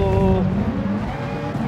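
Race car engine in Gran Turismo Sport droning steadily with a shifting pitch as the rear steps out and the car skids, a faint tyre squeal woven into the continuous motor noise.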